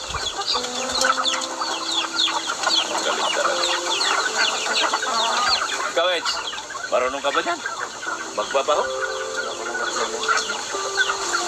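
A flock of farm chickens clucks continuously nearby, with a few brief louder squawks, while people chat over the poultry noise.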